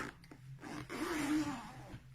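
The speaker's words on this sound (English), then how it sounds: "zip your zip up" An oversized zip on a cushion is pulled closed in one soft, rasping stroke, quiet and close, with faint handling noises around it.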